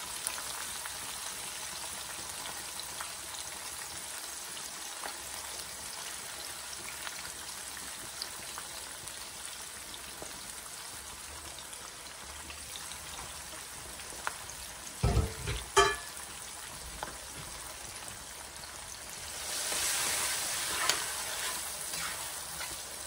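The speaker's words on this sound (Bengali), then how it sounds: "মশলাটার মধ্যে আমি পেঁয়াজ আর একটু বেল পেপার দিয়ে দিচ্ছি।" Onion and bell pepper fry in a spice mix in a pan, giving a quiet, steady sizzle with a couple of brief clattering stirs partway through and a louder hiss near the end.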